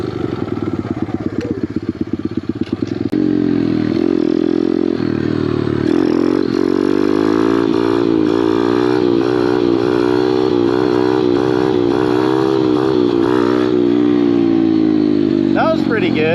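Pit bike engine held at high revs while practicing wheelies on a hill, a loud, steady buzzing drone that surges and sustains throughout, close to the rider with wind noise and a brief rougher idle near the start.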